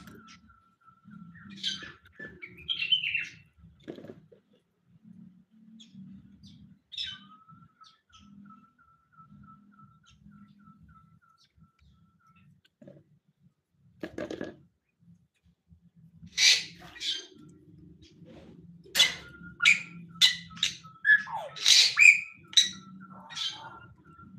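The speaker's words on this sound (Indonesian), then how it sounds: "Nah, ini burung jalak Bali." A Bali myna calling in an aviary: scattered whistles and chirps over a faint low hum, building into a burst of sharp, loud calls near the end.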